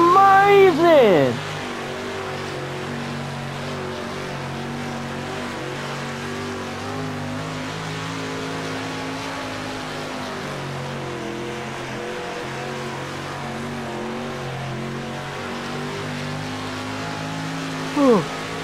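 A Street Stock dirt race car in World of Outlaws: Dirt Racing drones steadily at high revs, its engine tone rising and falling across the lap, with someone talking excitedly over it.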